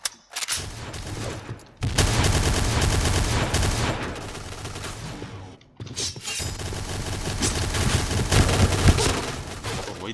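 Noveske N4 rifle gunfire in the video game Point Blank: loud, dense automatic bursts in two long strings separated by a brief pause, close and harsh, filling the whole clip.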